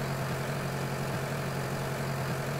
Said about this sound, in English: I've got to take my tractor down to unload a couple of bales